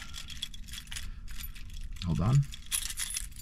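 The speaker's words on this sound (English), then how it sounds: "I'm gonna take my key fob off my regular keys." A bunch of keys jangles and clinks while a key fob is being removed from the ring, with metallic rattles in short clusters and a louder clatter midway, as someone speaks briefly.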